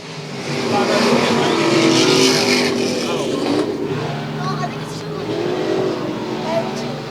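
Race cars circling the South Texas Speedway oval during a night race, their engines forming a loud, steady roar throughout, with a commentator talking over it.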